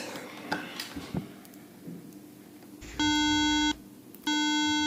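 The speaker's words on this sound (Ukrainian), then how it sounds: "Виставимо частоту 300 Гц, візьмемо звичайні телефончики і подамо на вхід." A multimeter's built-in generator sends a 300 Hz test tone through ordinary headphones, two steady buzzy tone bursts of about a second each separated by a short gap, following some handling clicks and rustle.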